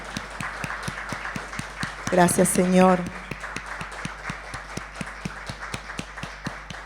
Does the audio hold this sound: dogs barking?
no